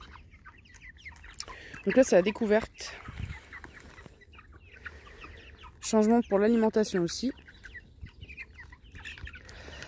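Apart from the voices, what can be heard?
free-range chickens clucking while discovering grain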